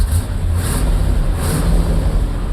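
A 1967 Corvette with a 400HP Tri Power engine idles with a loud, close, steady rumble and no voices over it.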